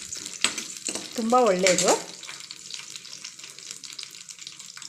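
Garlic and ginger sizzling and frying in a pan for cauliflower curry, with a brief stir early on and a steady quieter crackle afterward while a voice speaks briefly.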